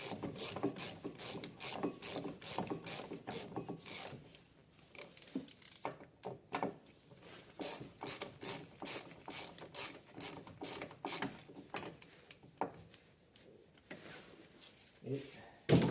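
Ratchet wrench snugging bolts on the front brake disc and pads of a Peugeot 206, giving rapid close clicking bursts in repeated runs with short pauses between.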